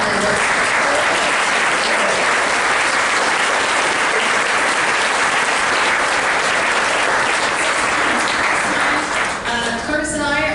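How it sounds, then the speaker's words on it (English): A full hall at a mayoral debate breaks into loud, sustained applause for the mayoral candidates, dense clapping continuing for about ten seconds before tapering as a voice starts to speak. "How about a round of applause for our candidates?"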